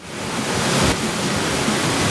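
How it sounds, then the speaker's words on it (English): A river flowing quickly in Algonquin Park near Kiosk, heard as a loud, steady broadband rush of water with no voices. "River flowing pretty quickly."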